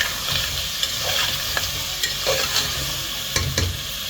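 Whole spices — star anise, green cardamom, cloves, cinnamon and bay leaf — dropped into hot oil for desi chicken karahi, giving a close, steady sizzle with scattered crackles and a few stirring scrapes, no talking.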